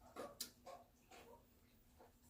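A small dog whimpering and crying from another room during home pizza cooking, a few faint, high, short whines spread across a couple of seconds with no talk.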